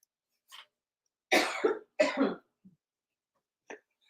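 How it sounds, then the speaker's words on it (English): A woman gives a few sharp, close coughs: one faint, then two strong bursts in quick succession, and a small final cough after a pause, in a quiet room. "She's coughing"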